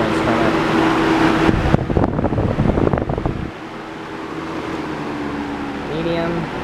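A homemade Holmeswood box fan built on a Holmes motor blows air with a steady broadband whoosh and hum, loud and close, briefly disturbed by handling noise before settling into a softer, even drone.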